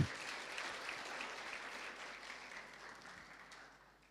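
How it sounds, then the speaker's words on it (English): A second round of audience clapping at a book launch panel in a bookstore, a burst of many hands that starts strongest and gradually fades over four seconds. "Let's give another clap."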